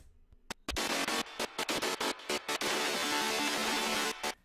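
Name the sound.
monophonic grindy synth layered with polyphonic super saw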